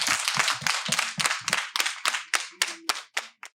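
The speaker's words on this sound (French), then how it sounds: "Alexandre et Caroline, vous pouvez les applaudir." A small group claps for donors at a community event, with sharp distinct hand claps in a loose rhythm that thin out and end in a few last separate claps.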